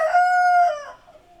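A rooster gives a single short, close crow, bright and sustained for under a second before trailing off into quiet.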